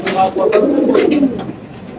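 Military breed pigeons coo softly in repeated throaty phrases, close by, while someone talks over them.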